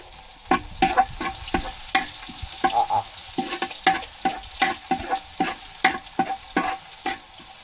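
Garlic and onion sautéing in a pan, giving a steady sizzle broken by a quick run of sharp spatula knocks and scrapes against the metal, close and fairly loud with no talking.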